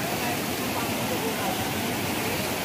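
The Kali Taal waterfall near Pithoragarh roars nearby in a dense, constant rush of falling water, loud and unchanging over the short stretch.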